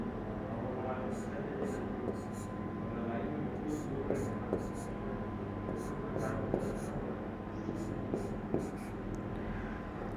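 Chalk or marker strokes on a board during a Class 12 maths lesson, a steady run of short scratchy taps and scrapes under a continuous hum, with a teacher speaking over it.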